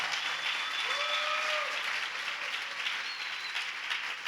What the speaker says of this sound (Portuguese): Dê uma salva de palmas ao Senhor, para esse Deus Todo-Poderoso